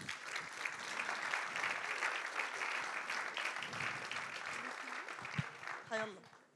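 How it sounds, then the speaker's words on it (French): An audience at an evening round-table event on decolonising news applauds steadily, a thick wash of many hands clapping throughout, with a voice beginning to speak as the applause fades at the very end. "vous pouvez les applaudir"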